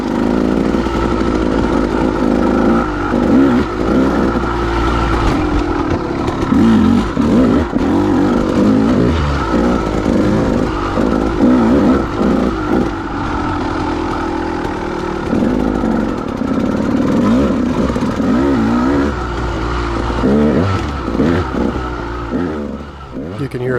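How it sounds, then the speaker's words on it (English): A KTM dirt bike engine revs hard and continuously on a trail lap at Clough State Park, rising and falling in pitch as the throttle opens, loud and close throughout. "You can hear in those exhaust notes that I'm hitting the gas harder"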